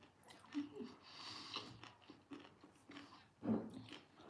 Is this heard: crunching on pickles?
yes